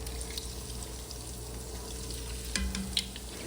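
Floured honey chicken wings deep-fry in oil in an oven pot, a steady close hiss of bubbling oil with a few brief louder crackles and clinks near the end, no talking.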